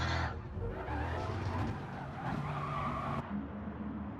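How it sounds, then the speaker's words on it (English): A race car in the video game Gran Turismo crashes into an inside wall: tires screech and skid loudly as the engine roars, ending in a harsh, sliding scrape. "That was a hard hit he took up against that inside wall."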